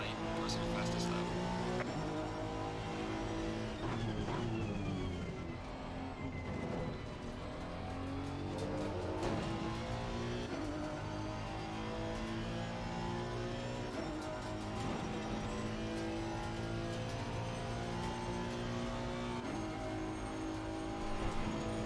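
A Honda NSX race car lapping the Bathurst Mount Panorama circuit in a racing video game: a loud, continuous engine whine that rises and falls through gear changes, with tire squeals, under a voice talking.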